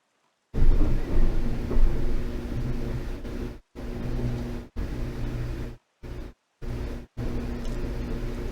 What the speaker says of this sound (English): Sea's getting pretty stormy now.